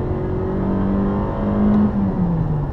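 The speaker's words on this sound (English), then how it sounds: "Oh, look at that, it will rev directly to redline." A car engine revs hard while driving on an empty road, the near, loud drone climbing steadily in pitch toward redline with a brief shift midway, no talk over it.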